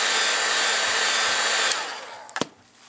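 A hair dryer blows on pink mold putty, a loud steady hiss for under two seconds that cuts off, followed by a few short clicks and knocks.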